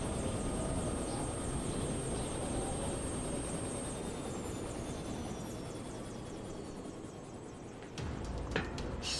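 A helicopter in the video game Yakuza Kiwami droning steadily at middle distance with a whining turbine tone, fading slightly before a sharper shift near the end.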